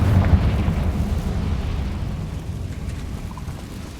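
A Confringo spell explosion in Hogwarts Legacy gives a deep rumbling blast that starts loud and slowly fades over a few seconds, with no speech.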